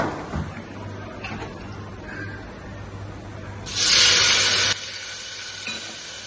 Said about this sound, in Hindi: तेल भी गर्म हो गया, और इसमें जीरा डाल कर छोंक लगा देते हैं।